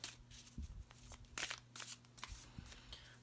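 Oracle cards from a Green Witch deck are handled and pulled, giving soft papery shuffles and flicks with a few sharper snaps, close and fairly quiet, with no talking.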